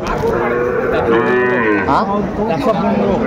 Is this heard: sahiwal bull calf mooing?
yes